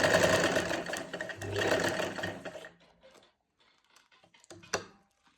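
A sewing machine stitches a finishing strip onto a dupatta, a fast close mechanical whirr in two bursts that stops, followed by quiet clicks and handling of fabric.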